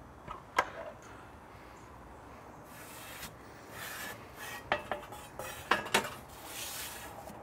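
Tomato pie pan being turned around inside an oven, with a few sharp metallic clanks and scraping rubs against the rack over a quiet background hum, clustered near the middle and end.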